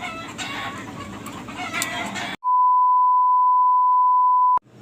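Chickens cluck and crow loudly over a dense, noisy farmyard background for about two seconds. Then the sound cuts off and a long, steady electronic beep follows.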